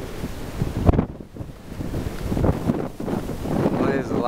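Strong wind gusting along a long, straight outback railway line near Ooldea, buffeting the microphone with broad roaring noise that swells and dips throughout, without any spoken voice.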